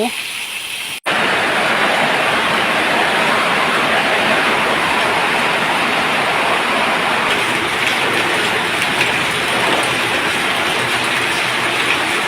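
Heavy rain pours down on a garden house beside a canal, a dense, loud, steady roar that starts abruptly after a short opening moment and holds unbroken.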